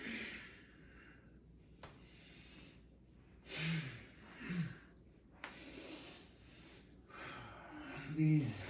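Breathing during a dynamic mindful movement class with pranayama and twisting moves, heard as a few sharp, close nasal inhales and exhales spaced across the clip, with faint movement rustle in between.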